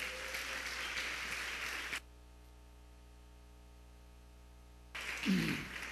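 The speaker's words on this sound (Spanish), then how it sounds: "Dele un aplauso al Señor entonces." A church congregation claps in applause, then the sound cuts to near silence with a low hum for about three seconds before the clapping resumes, with a thump in the middle of it.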